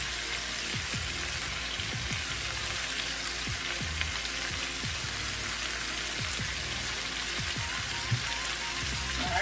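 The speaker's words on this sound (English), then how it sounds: "let's add in our onions and our peppers" Onions and frozen tri-colored peppers fry in a pan with a dense, steady sizzle like heavy rain, broken by soft rhythmic crackles, close up and with no voices.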